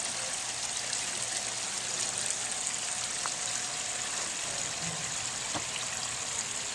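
Water from a newly built backyard pondless waterfall spills over arranged rocks with a soft, steady hiss and trickle, faint and continuous, with no voices.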